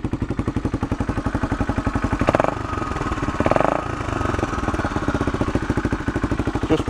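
A 1978 Honda XL250 motorcycle engine running steadily nearby, a loud rhythmic single-cylinder thump that swells briefly twice as the throttle is blipped.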